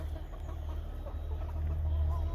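Chickens in an outdoor run, with soft clucking mixed into steady low outdoor rumble and wind, fairly faint and continuous with no talking.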